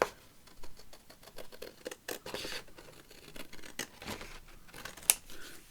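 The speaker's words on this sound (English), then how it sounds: "Then we can cut our corners for our tag." Scissors snip the corners of a paper card tag, a series of small crisp cuts and rustles at close range, quiet and irregular, with no voices.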